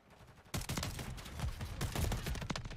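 Rapid automatic gunfire from the Call of Duty Modern Warfare 3 video game on the Shipment map, opening suddenly after a quiet start, then dense overlapping bursts, loud and close, continuing throughout.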